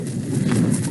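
Donkeys walking on a ranch, a soft, muffled clopping of hooves close by, steady and low over a brief stretch of ambient noise.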